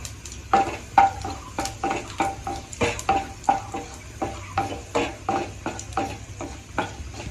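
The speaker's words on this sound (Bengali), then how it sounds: "তো এই তেলের মধ্যে কয়েকটা শুকনো মরিচ দিলাম।" Dried red chillies frying in hot mustard oil with regular stirring scrapes against the pan, a rhythmic series of close scraping strokes over a steady sizzle, no talking.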